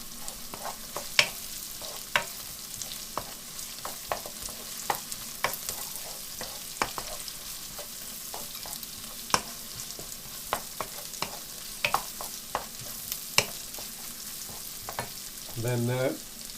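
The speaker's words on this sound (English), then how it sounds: "we literally just drop them into the onions and the ginger. And we stir it in." Vegetables stirred into onions and ginger frying in a pan for an organic vegetable curry: a steady close sizzle broken by scattered sharp utensil scrapes and clicks, with a brief louder burst near the end and no talking.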